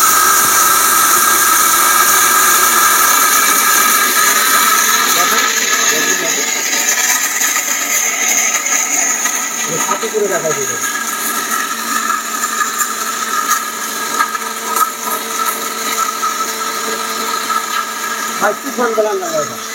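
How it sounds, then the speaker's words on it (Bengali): A 1600-watt Orpat blender grinding chickpeas runs with a steady, loud motor whine for the whole stretch, with occasional rising pitch sweeps as the load shifts. "লক করে এই যে আমি স্টার্ট দিয়ে দিলাম"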